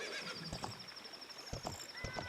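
A horse neighs in the video game The Legend of Zelda: Ocarina of Time, with short whinny calls repeating a few times over a steady, high-pitched game music tone and background ambience.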